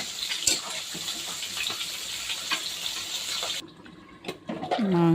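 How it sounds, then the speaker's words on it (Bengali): Water splashes and pours into a pan of meat curry cooking with spiced masala, a steady close rush that stops near the end, followed by a brief clatter. "ভালো করে কষিয়ে জলের পানি দিয়ে দেব।"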